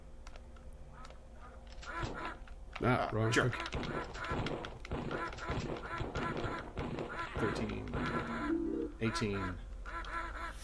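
Ducks quacking in the 1995 3DO video game BattleSport, nasal quacks scattered through busy game effects and explosions, with someone talking over them throughout.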